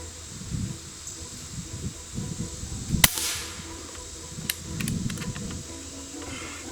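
A single sharp report from a Umarex Origin .25 caliber PCP air rifle cracks once mid-clip over low rumbling outdoor background, with a few faint ticks afterward.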